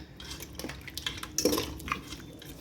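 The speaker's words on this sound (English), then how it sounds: "Gonna give it a little stir." Goat meat stirred in a metal cooking pot, soft close scraping and clinking of a utensil against the pot with a few wet drips, quiet and brief, no voices.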